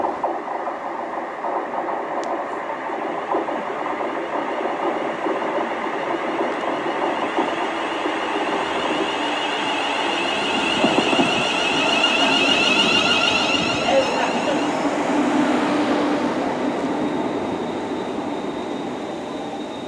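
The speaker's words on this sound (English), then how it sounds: "the 12:30 to Rugeley Trent Valley should be due here now" A West Midlands Railway train pulls into a station on the Rugeley Trent Valley line, its steady rumble and rolling wheel noise rising and nearing before easing off, with a faint squeal of brakes near the end.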